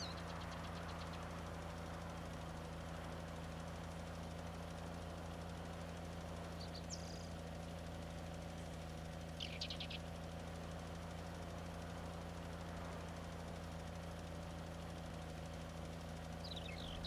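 A tractor engine in Farming Simulator 19 drones at a steady low hum, faint and unbroken throughout, with a few tiny clicks on top and no talking.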